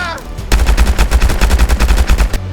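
Rapid automatic gunfire from the VR shooting game Hard Bullet bursts out loud and close in a fast, steady volley lasting about two seconds after a short lead-in.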